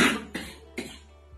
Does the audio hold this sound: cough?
yes